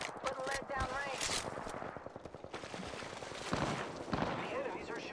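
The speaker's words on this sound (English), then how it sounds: "The enemies are shooting at me." Rapid bursts of enemy gunfire in the battle royale game Apex Legends, sharp repeated shots coming in clusters close by, mixed with other game effects and in-game voice chatter.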